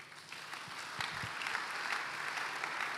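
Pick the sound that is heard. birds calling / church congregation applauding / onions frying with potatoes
church congregation applauding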